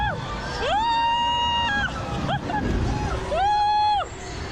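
On a VR dragon ride, a woman yells in long rising and falling wails, several calls in a row, loud and close over a noisy crowd background.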